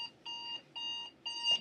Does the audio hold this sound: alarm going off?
yes